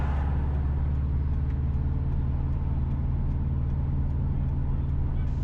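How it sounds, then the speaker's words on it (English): Steady low engine rumble and road noise from inside a car driving south on Bravo Street in St. Ann's Bay, Jamaica, continuous and close throughout. "we are driving south on Bravo Street in St. Ann's Bay towards St. Ann's Bay Town Centre"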